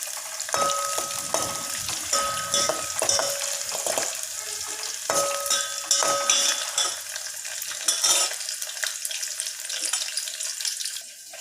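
Onion and green chili fry in oil with cumin and mustard seeds for ridge gourd chutney, giving a bright steady sizzle with periodic stirring scrapes, close and fairly loud, no speech.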